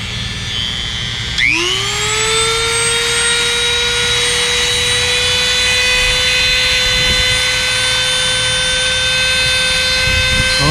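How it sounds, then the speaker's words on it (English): A Dremel rotary tool cutting a slot near a battery terminal, spinning up sharply and holding a loud, steady high whine close by for the rest of the stretch, with no talking. "Cut a little slot with a Dremel right here to clear this terminal."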